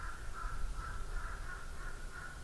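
A second crow calls outdoors on a high day hike, a faint, repeated caw pulsing steadily across the clip above a low background rumble, with no voices.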